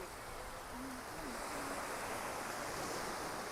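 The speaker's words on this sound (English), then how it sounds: "Let's have a look what's happening out here on the ocean waves." Ocean surf washing steadily against a New Zealand shore, a continuous broadband wash with wind noise across the mic and a faint tonal hoot briefly audible in the middle.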